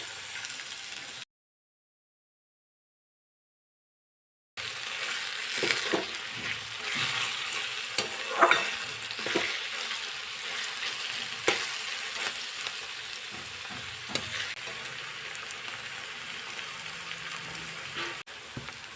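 Chopped onion sautés in a pan with garlic and curry leaves, giving a steady, close crackling sizzle broken by stirring scrapes. The sizzle drops out into a few seconds of silence early on, then carries on alone.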